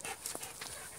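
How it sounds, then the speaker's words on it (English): Happy dog panting quietly, a short run of soft breathy puffs caught nearby outdoors by the water. "And there's also a nice happy dog."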